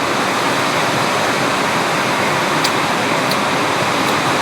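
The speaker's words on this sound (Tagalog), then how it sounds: "Rinig din naman yung hampas ng alon, di ba?" Steady broadband rushing of surf washing against the shore, loud and unbroken, with faint high clicks here and there.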